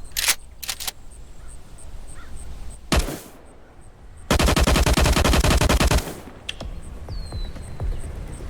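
Gunfire in the post-apocalyptic video game LifeAfter: a few sharp single shots, then a dense rapid automatic burst lasting about two seconds, followed by a couple more isolated cracks, loud over quiet ambience.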